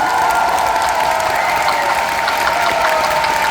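A concert audience claps steadily and loudly after a band's live performance, a dense even wash of applause with a few faint cheers mixed in.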